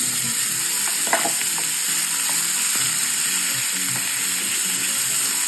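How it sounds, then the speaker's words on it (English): Meat stir-frying over high heat in a hot pan, a loud steady sizzle with scattered scraping and stirring clatter throughout, no voices. "I'm going to stir fry the meat."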